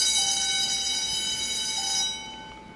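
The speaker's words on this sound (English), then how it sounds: "Oh, and there goes the bell." A steady electric school bell at Queen Victoria school in Corktown, Hamilton, Ontario rings for a couple of seconds, a sustained bright metallic tone that fades out at the end.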